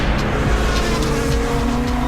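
Biofuel-powered Corvette and hybrid race cars racing, loud engines revving with shifting pitch and a hint of tire squeal, close and continuous, no voices.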